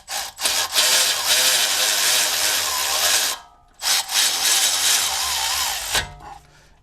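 Bolts on a BMW E90 brake caliper are tightened with a hand tool in two long, close, steady bursts of ratcheting and rubbing metal, broken by a brief pause.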